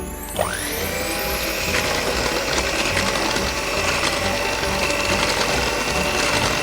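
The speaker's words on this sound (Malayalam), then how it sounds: "ഇത് നമ്മൾ ബ്ലെൻഡർ വെച്ച് മിക്സ് ചെയ്യുവാണേ." An electric blender whipping eggs with vanilla essence for a Christmas cake batter, a steady loud motor whine that starts abruptly and holds, close by with no voices.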